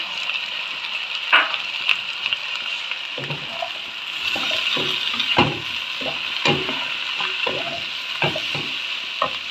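Okra frying in oil in a pan for bhindi masala gives a steady bright sizzle, punctuated by repeated scraping and stirring knocks from a spatula.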